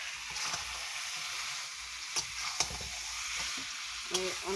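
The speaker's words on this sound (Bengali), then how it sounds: "আমি এখন এর মধ্যে মাংসটা দিয়ে দিলাম।" Chicken pieces sizzle steadily as they are stirred into fried spice masala for Bengali chicken kosha, a continuous close frying hiss with a few spoon scrapes and clinks over it.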